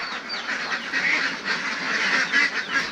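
Laying ducks at a duck egg farm in Bueng Kan, a dense flock quacking continuously and fairly close, a busy overlapping chorus with no talk.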